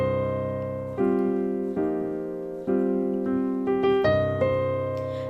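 Jazz piano chords of a tune, sustained minor voicings struck roughly every second with a ringing bass, played alone and up close with no talking.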